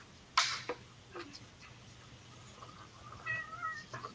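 A cat meows once, a short, fairly clear call, followed by fainter, softer mewing later amid quiet room noise, with no talking.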